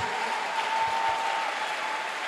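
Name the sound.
congregation applauding in church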